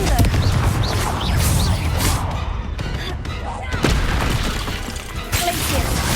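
Spell combat in Hogwarts Legacy erupts in loud, rapid blasts and booming impacts with crackling debris, layered closely one after another while a voice shouts over the action.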